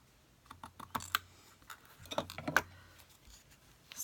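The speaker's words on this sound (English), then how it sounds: "And then I'll just use my scissors to cut it." Scissors snip scarf material for a snowman box, a few short crisp cuts in two small clusters, close and quiet.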